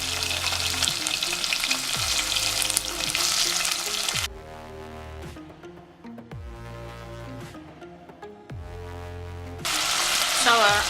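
Onion and gizzard sizzle and fry in a pan while spaghetti is being made, a steady broadband hiss loud at the start and end and quieter in the middle, over background music with no talk.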